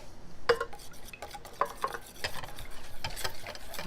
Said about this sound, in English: Now let's go ahead and mix it.